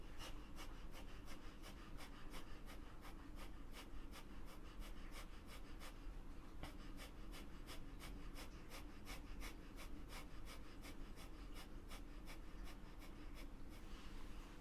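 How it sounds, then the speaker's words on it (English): Rapid, rhythmic Kundalini yoga breath of fire: quick, even nasal huffs at roughly three per second, continuing steadily and softly for the whole stretch with no talking. "Keep doing breath of fire."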